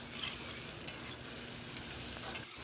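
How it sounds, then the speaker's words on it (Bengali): Small potato pieces frying with salt and turmeric, giving off a faint, steady sizzle of oil with a couple of light stirring touches. "আমি নুন হলুদ দিয়ে আলুটা ভেজে নিচ্ছি।"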